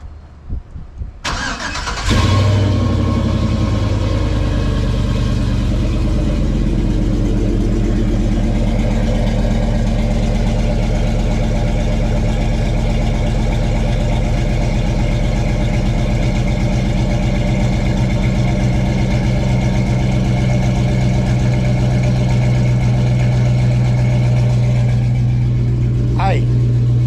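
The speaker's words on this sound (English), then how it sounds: "What you heard is stock exhaust, no headers." A car with a stock exhaust, an H pipe and no headers starts up, then idles loud and close with a steady rumble. It climbs into a couple of revs near the end.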